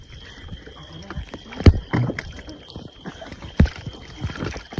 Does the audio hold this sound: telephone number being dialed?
no